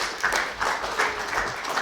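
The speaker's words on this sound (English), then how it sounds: "Let's give it up a round of applause for all participants from Malaysia." Applause for participants at a Malaysian innovation fellowship final-pitch event, a steady wash of many hands clapping at moderate volume, continuous throughout without speech.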